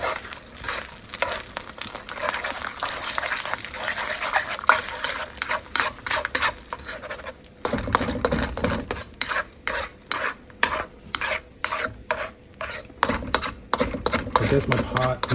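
Onions, peppers and Spam stir-fried in a wok, with a steady sizzle and rapid scraping, clattering strokes of a utensil against the pan, loud and close with no talking.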